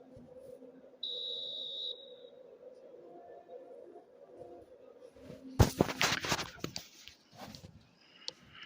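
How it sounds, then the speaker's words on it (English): Referee's whistle in an eFootball 2026 video game match, a single clear, sustained blast lasting about a second early on, followed by louder crowd and game noise with commentary. "Whistle goes, and we start the second half."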